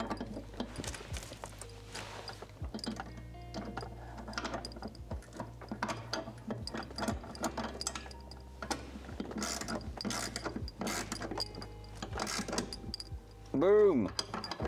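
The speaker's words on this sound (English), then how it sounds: "So the bolt's almost fully bolted down." A ratchet tightening a bolt during throttle pedal and seat installation on a Datsun, repeated clicking ratchet strokes in quick bursts with mechanical clatter, close and moderately loud.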